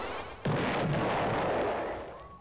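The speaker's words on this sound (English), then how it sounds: "That stock explosion thing." A stock explosion effect in the video game Deltarune, with a sudden loud blast that holds as a noisy rumble for about two seconds and then fades.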